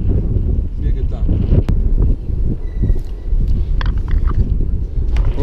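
Gusty wind buffeting the microphone in a park, a low rumbling roar with a few sharp knocks and rustles, close and loud while a person speaks over it.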